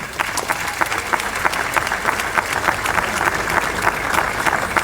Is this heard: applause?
yes